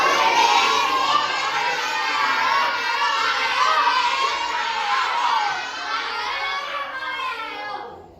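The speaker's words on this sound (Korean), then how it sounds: "우리 함께 큰 목소리로 외치고 마치겠습니다" A group of children at an elementary-school summer Bible school shout together in unison at full voice, a loud, sustained crowd of young voices filling the whole stretch before tapering at the end.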